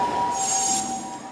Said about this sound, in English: The last train has left the station.